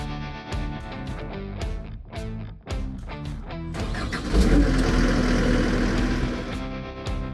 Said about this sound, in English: press and hold the green button to turn over the engine